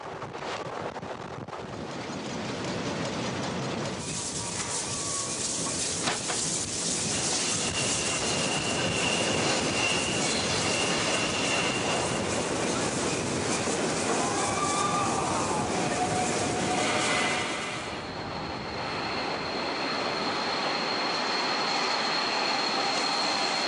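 The Gurkenzug passenger train passes through Berlin-Charlottenburg at around 80 km/h, a loud sustained roar of wheels and rails with squealing tones and rhythmic clatter. It swells and then eases as it goes by.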